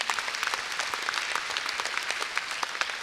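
An audience at an award ceremony and poster showcase applauds steadily, many hands clapping in a dense, even patter for a few seconds.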